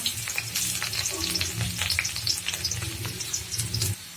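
Onions sizzle and crackle in a hot pan while noodles are being made, a busy, fairly loud fry with scattered pops and no voices.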